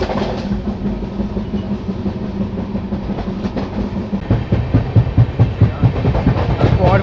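Ranchi–Howrah Shatabdi Express running at around sixty to sixty-five, with a steady rumble and hiss and rhythmic clickety-clack of wheels on rail joints growing louder toward the end.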